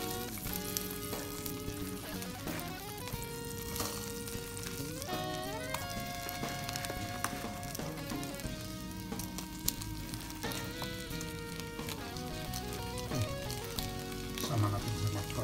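Salted cod (bacalao) frying in a pan gives a faint, steady sizzle beneath louder background music that plays throughout, with no talking.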